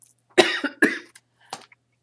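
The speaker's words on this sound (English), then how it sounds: "If I start coughing, I apologize." A close burst of two or three harsh coughs, followed by a smaller single cough, in an otherwise quiet room.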